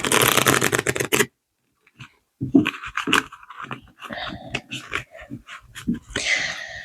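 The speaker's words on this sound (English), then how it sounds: "I'm just going to give this a shuffle." A stack of cards riffled briskly in a dense, crackling burst, then paused, followed by softer scattered card flicks and taps continuing close by.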